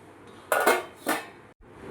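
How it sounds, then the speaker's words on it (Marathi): Peanuts tipped into a mixer grinder jar land in two quick, close rattling bursts about half a second apart, with no talking. "इथे मी मिक्सरचं भांडं घेतलं आहे, त्याच्यात हे शेंगदाणे टाकून घेते"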